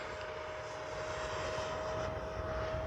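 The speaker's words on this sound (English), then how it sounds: "What a great flying little jet" A Freewing 70mm F9F-5 RC model jet flying over a short-runway field, a steady whooshing fan whine with a constant high tone, moderately distant and unbroken.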